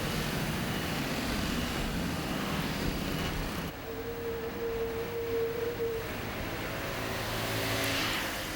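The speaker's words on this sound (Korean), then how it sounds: "까오슝의 아침은 출근하는 공단 근로자들의 스쿠터 소리로 시작된다" Commuter scooters stream through a busy street in Kaohsiung's industrial district during the morning rush. Engine drone and passing whooshes fill the street, with a brief steady tone in the middle.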